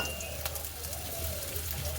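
Potatoes fry in hot oil, giving off a soft, steady sizzle with faint crackles throughout, quiet and close with no voices.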